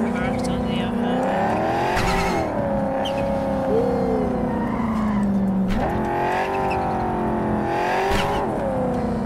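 A car in the video game Cyberpunk 2077 accelerates with a rising, shifting engine drone, broken by sharp tire squeals and skids, loud and continuous across the whole stretch, with a voice partly audible underneath.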